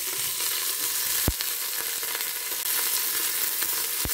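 Onion and peppers sizzle in a pan with the juices left by roasted chicken, giving off a steady, close frying crackle with a few sharp clicks and stirring noises.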